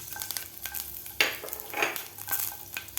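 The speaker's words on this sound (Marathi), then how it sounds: "तेल आपलं गरम झालेलं आहे तर यामध्ये घालायचे आपल्याला जिरे जिरे घातल्यानंतर आपल्याला मिरची आणि लसूण घालायचं आहे" Cumin seeds, green chilies and garlic hit hot oil for a raw mango thecha, crackling in short, sharp sizzling bursts with light stirring scrapes in between.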